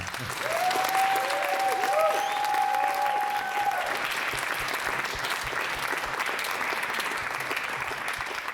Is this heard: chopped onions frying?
no